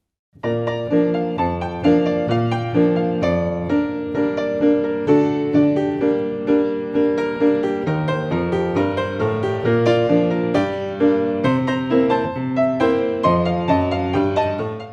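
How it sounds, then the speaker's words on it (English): A piano piece played with the damper pedal, notes ringing into one another, sustained chords blending into a smooth, continuous, connected wash of sound. "While a piece played with the pedal sounds much smoother and connected."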